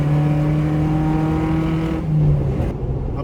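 A Suzuki Samurai engine runs loud and close, holding a steady droning note before dropping off near the end.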